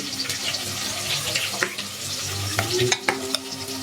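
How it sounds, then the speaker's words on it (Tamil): Brinjal, okra and tomato being sautéed and stirred in a pan, with soft sizzling and scraping under running water, and a few sharp utensil clinks near the end; no one speaks. "இப்போ இந்த கத்திரிக்காய், வெண்டைக்காய், தக்காளி எல்லாம் வந்து நல்லா வதங்கிடுச்சு"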